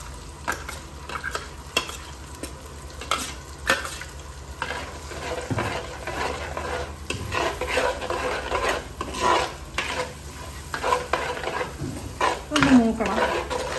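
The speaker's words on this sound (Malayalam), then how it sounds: "ഇതിനകത്ത് ഈ സവോളയും തക്കാളിയും കൂടെ അരച്ച പേസ്റ്റ് ഇല്ലേ അത് നമുക്ക് ഇട്ട് കൊടുക്കാം" Onion and tomato paste stirred into a fish curry base in a pan, with steady scraping and clinking of a spoon against the pan over a soft sizzle, close up and continuous.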